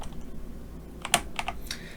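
Keys tapped on a computer keyboard while working in PowerPoint, a short cluster of close, light clicks after a quiet stretch, with no talking.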